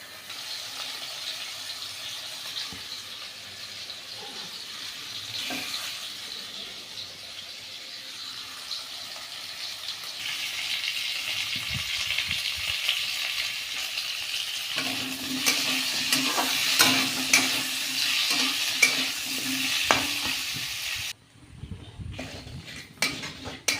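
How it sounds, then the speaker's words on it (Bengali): Bay leaves tempering in hot oil in a kadai for a Bengali home dish, a steady close sizzle with occasional stirring and scrapes of a utensil against the pan, growing busier and louder toward the end. "তেজপাতা ফোড়ন দিলাম মশলা দেবো এক এক করে"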